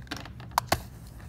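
Numbers are tapped out on a computer keyboard in a quick burst of a few crisp, close keystrokes.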